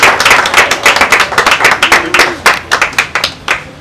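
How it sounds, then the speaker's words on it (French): Loud, close hand clapping from a small group at a family birthday celebration, a brisk, rhythmic run of sharp claps that continues for several seconds with little else behind it. "si on peut encore applaudir pour papa"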